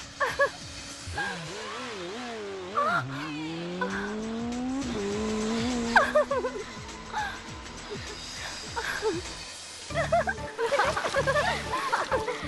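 A stunt motorbike in an action movie revs and whines through rising and falling engine sweeps, broken by sharp tire squeals and skids, with a busier burst of noise near the end.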